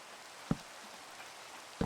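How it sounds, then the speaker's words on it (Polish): Rain falls in the Minecraft video game as a soft, steady hiss of rainfall, broken by two short, sharp knocks, with no talking. "bo znowu pada"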